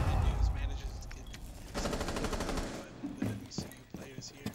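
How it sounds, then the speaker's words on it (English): Gunfire from a gunfight in the Rainbow Six video game during a collegiate esports playoff match, with loud rapid automatic bursts and scattered single shots, some clustered and some spaced apart, up close. "you're getting into a gunfight with a WCU player"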